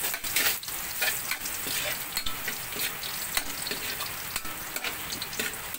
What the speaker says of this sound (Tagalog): Mainit na ang ating mantika. Lalagay na natin ang ating bawang.